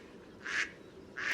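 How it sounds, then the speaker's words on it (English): A duck gives two short quacks about a second apart, faint against a quiet farm background with no talk. "duck,"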